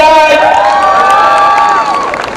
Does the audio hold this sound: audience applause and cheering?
yes